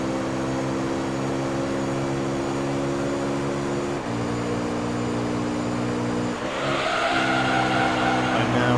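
Race cars lapping the Super Speedway oval in Gran Turismo 3, a loud, continuous engine drone holding steady pitch, dipping briefly at shifts, then rising with a harsher rasp near the end.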